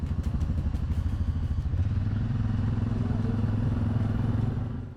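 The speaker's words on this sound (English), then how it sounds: "on the road with the ATV team in downtown Honolulu" A police ATV rumbles along a downtown Honolulu street, its engine a close, steady mid-pitched drone with some clattering at the start, loud and continuous without speech.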